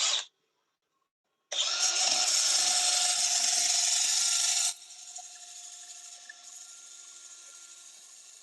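Sandpaper rubs against a spinning wood turning on a lathe, a steady loud hissing rasp for a few seconds that then drops to a softer continuous whir of the lathe.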